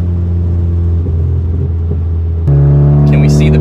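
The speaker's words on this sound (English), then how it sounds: "Accelerating, it really wants to pull to the right with torque steer" A VW MK6 GLI accelerating hard with torque steer, its engine a loud, steady in-cabin rumble that steps up in pitch partway through as the revs climb, with a voice speaking over it.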